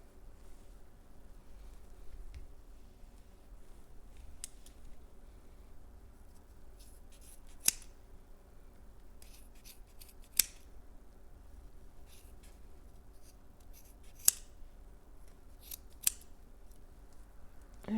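Scissors snip through loops of crochet yarn, a few faint crisp cuts spaced apart over a quiet, soft rustling background.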